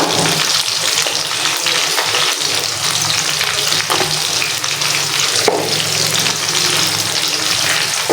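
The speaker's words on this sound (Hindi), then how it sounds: "हमारे प्याज जो है वो तकरीबन फ्राई हो चुके हैं" Onions frying in a pan, a loud, steady, close sizzle that crackles continuously throughout with no voices.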